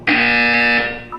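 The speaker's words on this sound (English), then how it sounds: "You will hear a buzzer." A harsh electronic buzzer in the video game Portal 2 sounds once, loud and steady for nearly a second before cutting off.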